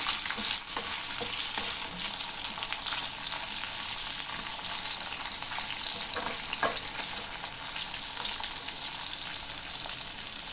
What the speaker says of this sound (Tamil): எல்லாத்தையும் சேர்த்து நல்லா வதக்கிடலாம்